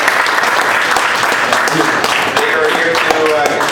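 Audience applause greets visiting Belgian brewers and brewery staff at a beer Q&A event, a dense, steady clapping that fills the short stretch at close range and stays loud throughout, with some voices mixed in.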